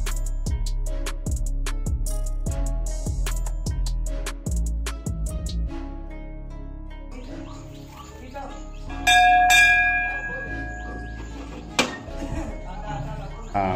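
Temple bell at a village Kali Mata shrine in Ballia, struck in a steady run of loud, close clangs for about five seconds, then ringing tones and shuffling with a few fainter strikes and rustles.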